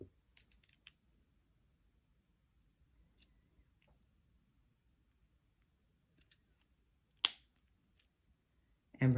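Wire cutters snip off the excess end of jewelry wire, giving a few faint clicks early on and then one sharp, close cut followed by another click at the very end, with near silence in between.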